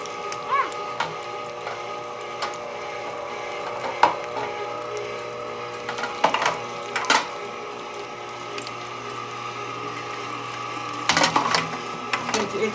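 A Cabela's Carnivore meat grinder fitted with a coarse plate runs steadily as meat is fed through, a constant motor hum broken by irregular clunks and knocks.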